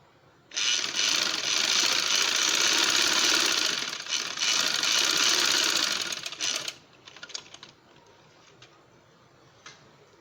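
A sewing machine stitching the shoulder seams of a simple shirt runs loudly and close in a steady, rapid whir for about six seconds, then stops, followed by a few faint clicks and handling sounds.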